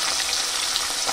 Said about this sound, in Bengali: মাছগুলো আমি উল্টে পাল্টে এবার ভালো করে ভেজে দিই